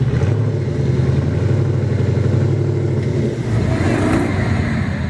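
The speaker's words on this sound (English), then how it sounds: "Just listen to the satisfying hum of that Lexus 4-litre V8" A deep, steady Lexus 4-litre V8 engine hum runs loud and close throughout on an off-road course, a smooth low drone with a slight dip midway and no voices.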